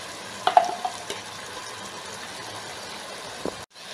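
Ginger garlic paste frying in a pot for fried chicken biryani, a faint steady sizzle with a few soft clinks of a spoon early on, cutting off abruptly near the end.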